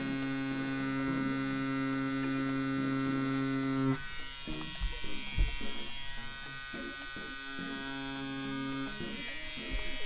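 A tattoo machine fitted with a needle runs as a steady electric buzz with a strong hum, stops for a few seconds of scattered handling noise, then starts buzzing again.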